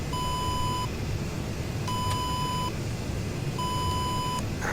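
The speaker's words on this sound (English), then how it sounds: "Let's turn off the RWR beeping." Three evenly spaced electronic warning beeps from the radar warning receiver of an AJS-37 Viggen in DCS, each a long sustained tone, repeating over a constant engine-like drone.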